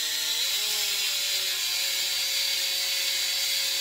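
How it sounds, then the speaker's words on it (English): A power drill spins to wind cassette tape off its hub onto the drill bit, giving a steady, continuous motor whine with shifting pitch, close and fairly loud, without talk. "I'm just rolling the tape off the hub onto my drill bit here."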